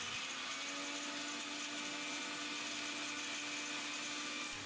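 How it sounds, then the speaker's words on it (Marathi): A mixer grinder runs steadily, grinding dry coconut down to a fine powder, a continuous loud motor whine with blade roar and no pauses. "सुरुवातीला आपण हे कोरडंच खोबरं दळून घेऊयात"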